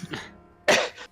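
A voice imitates a dragon coughing, with a rough hacking burst after a short breathy rasp, close and fairly loud.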